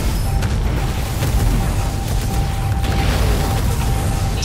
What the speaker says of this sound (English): I'm getting shelled by artillery.